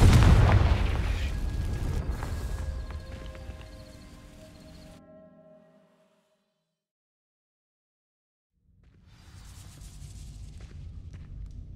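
Confringo fire spell bursting into dry vines in Hogwarts Legacy, a loud booming blast that rumbles and fades into silence before a softer crackling swell returns.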